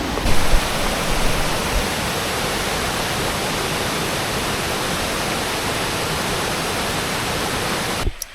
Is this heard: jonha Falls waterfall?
yes